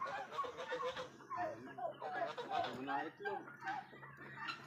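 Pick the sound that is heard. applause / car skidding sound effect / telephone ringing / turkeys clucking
turkeys clucking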